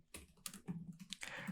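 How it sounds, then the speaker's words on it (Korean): Keystrokes clatter on a computer keyboard as code is typed, a quick uneven run of close, crisp taps and clicks with no talking. "같이 보면서 한번 타이핑을 해보겠습니다."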